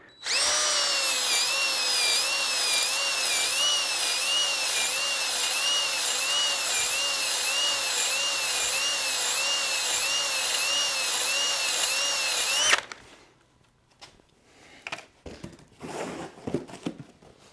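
Dingleberry ball hone spun by a drill inside a cylinder of a junkyard 6.0 LS V8 engine, a loud steady whirring grind with wavering pitch for about thirteen seconds, then abruptly stopping, followed by faint clanks and handling noises.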